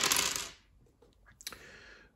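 Dice tossed during a Mini Rogue board game: a loud clattering burst at the start that fades within half a second, followed by a few softer scattered clicks and a final small rattle.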